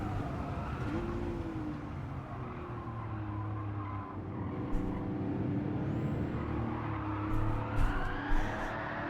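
A Porsche engine roars continuously while racing in Gran Turismo, with shifting tones, squealing tyres during skids and occasional sharp bumps near the end.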